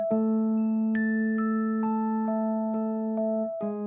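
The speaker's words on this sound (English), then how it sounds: "The doorbell rang by itself." A doorbell chime rings out clearly in a quiet house, a series of sustained, overlapping bell-like tones sounding one after another with no talking.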